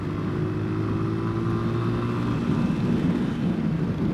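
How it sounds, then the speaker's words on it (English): A small-displacement motorcycle engine held at high revs in fifth gear, a steady loud droning whine with wind rush, continuous throughout and rising slightly in intensity toward the end, heard from on the bike in Yemen. "It revs really high, this particular motorcycle"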